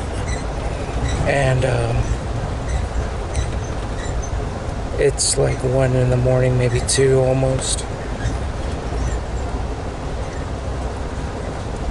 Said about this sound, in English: So we are on the train.